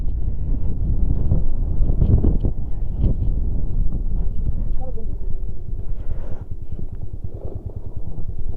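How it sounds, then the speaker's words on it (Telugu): Cold wind rumbles low and gusty against the microphone during a motorcycle off-road ride from Turtuk to Shyok, a continuous muffled buffeting under people talking. "చల్ల గాలి అయితే వీస్తుంది."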